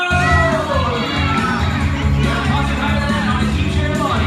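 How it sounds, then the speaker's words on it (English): Studio audience cheering and shouting loudly and continuously for contestants during a messy food challenge on the Double Dare game show, a dense, steady crowd roar with children's voices. "Keep cheering them on here."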